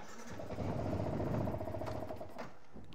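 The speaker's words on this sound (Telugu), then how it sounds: "బైక్ని ఆన్ చేసుకుందాం." A Yamaha R15 motorcycle engine fires up and settles into a steady mid-pitched idle, close by and continuous for a few seconds.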